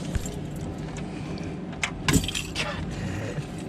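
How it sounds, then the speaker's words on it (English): Car keys jangle into the ignition of a Chevrolet S10 pickup under restoration, a few short metallic clinks and rattles near the middle amid quiet cabin room noise. "Just throw the keys in it real quick."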